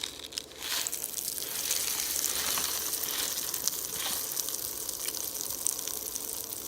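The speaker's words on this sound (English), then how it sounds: "then we're going to put in the Pop Rocks" Pop Rocks candy dropped into a glass of water gives a steady, dense crackling fizz that runs unbroken for several seconds at close range, with a brief burst at the start and no talking.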